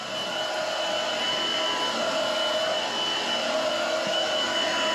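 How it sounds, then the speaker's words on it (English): A Shark Freestyle upright stick cordless vacuum runs continuously for several seconds, a loud, steady motor whine with airy rushing noise and no change in pitch. "I am very impressed with this Shark vacuum."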